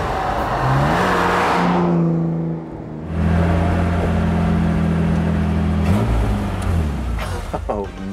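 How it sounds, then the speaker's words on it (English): An Aston Martin DB4 classic car driving, its engine note rising and falling through gear changes with a brief lull near the middle, loud and close throughout, with occasional voices under it. "this Aston Martin DB4 was one of the better rides I've had in a long time"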